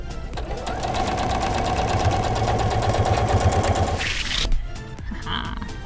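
A sewing machine runs fast and continuously, stitching the side of a Beetlejuice-themed Halloween tote bag with a loud, close, rapid mechanical rattle, then stops abruptly, leaving a quieter room.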